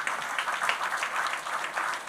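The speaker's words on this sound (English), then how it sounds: "give these young persons another round of applause" An audience applauds young speakers at a Junior Tourism Minister event, a steady, dense patter of many hands clapping at moderate loudness, with no talk over it.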